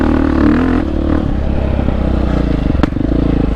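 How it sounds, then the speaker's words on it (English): A dirt bike rides along an open twin-track trail in the Lockyer Valley, its engine loud and close throughout, with a sharp crackling pop from the exhaust near the end. "Ooh, pop on the exhaust."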